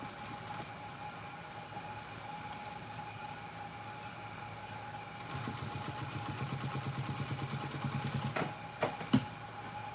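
A sewing machine stitches leather for a bag, starting quietly and then running in a fast, even chatter of needle strokes, ending with a couple of sharp clicks.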